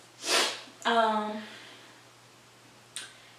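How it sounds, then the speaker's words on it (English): A couple of quick nasal sniffs, close and soft, with a short breathy snort between them and quiet room tone around. "Sniffles."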